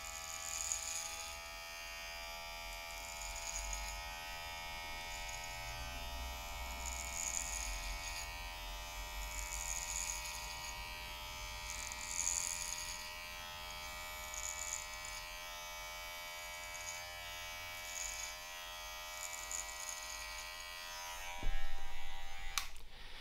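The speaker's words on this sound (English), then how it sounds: "Starting with the clipper low down, we're going to take strokes straight up." An electric hair clipper buzzes steadily, close and continuous, as it cuts hair in a faded undercut self-haircut, with a brief knock near the end.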